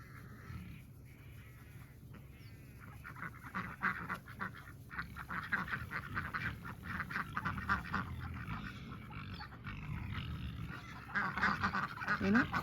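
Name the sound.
ducks quacking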